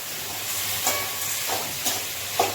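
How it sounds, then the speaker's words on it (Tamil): Cabbage sautés in a pan, giving a soft continuous sizzle with a few clinks and scrapes from stirring, fairly quiet and without talking. "கோஸ் நல்லா வேகட்டும்."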